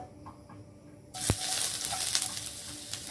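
Ginger hitting hot oil in a pan for stewed yellow croaker: a sudden loud sizzle bursts in after a quiet start with a sharp clink, then holds as a steady, close hiss of frying with light scraping.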